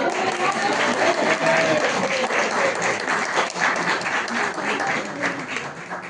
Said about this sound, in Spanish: Un aplauso para Clemente.